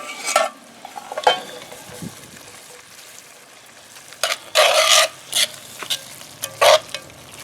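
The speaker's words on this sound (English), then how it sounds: "I'm going to put my meat back in here." Pork goes back into a pepper stew pot over the coals of a Weber kettle grill and gets stirred, giving a low simmering sizzle with sharp, loud scraping strokes clustered toward the end.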